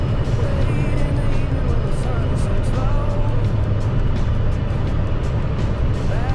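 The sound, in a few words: fully loaded semi truck engine crawling up steep incline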